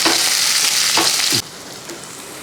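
Ginger and green chillies hit hot oil already popping with mustard seeds, a loud close sizzle with stirring that drops sharply to a quieter fry partway through, cooking for an egg thoran.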